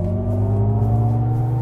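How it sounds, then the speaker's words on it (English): A 2022 GMC Hummer EV pickup at full throttle, a loud steady low electric-motor hum and rumble with a faint rising whine, heard up close from inside. "So I'm going to do that, flooring it, and then it says release brake."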